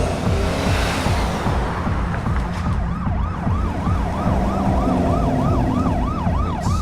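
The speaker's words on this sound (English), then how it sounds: "so we decided to go with police sirens because that makes sense for a police car chase" Police sirens in a car chase sound effect, a loud wailing siren sweeping up and down repeatedly over heavy engine and road rumble.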